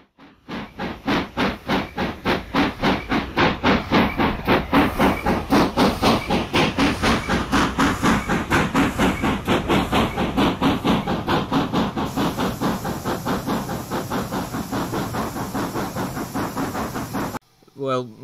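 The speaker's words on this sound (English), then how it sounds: "Probably the only saving grace these locos have is the sounds that they come with." Steam locomotive in Train Simulator's Riviera Line in the Fifties, chuffing loud and close in a fast, steady, unbroken rhythm for many seconds before cutting off abruptly near the end.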